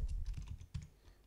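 Quick burst of keystrokes on a computer keyboard while a terminal command is typed, a handful of soft close clicks in a quiet room.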